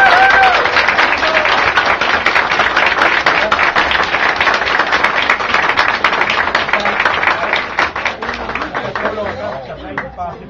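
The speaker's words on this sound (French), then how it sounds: "j'aimerais commencer par les applaudir pour leur 40e anniversaire." Guests at a 40th wedding anniversary celebration applaud in a sustained, dense burst of clapping close by, fading gradually toward the end.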